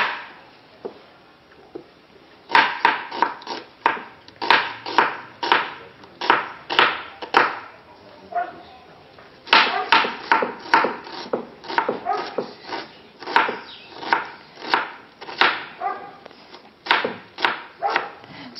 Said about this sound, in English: So I'll start with chopping them.